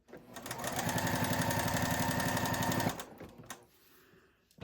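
A sewing machine stitches fabric squares for a nine-patch bag in one close, loud, rapid mechanical run lasting a few seconds, then stops, leaving faint handling noises.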